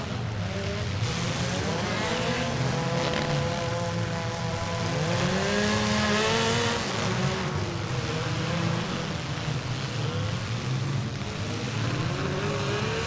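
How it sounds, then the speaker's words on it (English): A race car engine at a dirt track bash race drones continuously, its pitch rising and falling as it revs, with other engines blending into a loud, steady roar. "Listen to that car."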